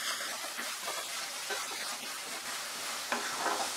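Green peas tipped into a hot pan of oil for a cabbage and prawn curry and stirred, a soft continuous sizzle with a few scraping stirs, fairly quiet and heard alone.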